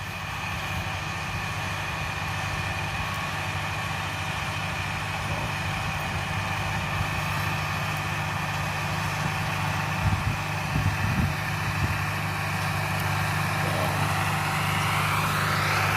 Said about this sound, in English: That's a 2940 he's running, pulling the fertilizer buggy.